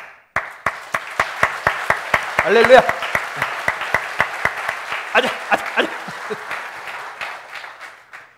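Rhythmic unison clapping from a congregation at a Korean church Sunday service, sharp evenly spaced claps keeping a steady beat while voices shout out over them and gradually quiet down.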